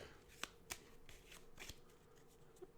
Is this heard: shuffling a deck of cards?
yes